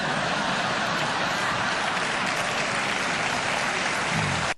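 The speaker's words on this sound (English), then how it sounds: "Oh, applause break." An audience breaks into loud, dense applause that holds steady for several seconds, then cuts off abruptly.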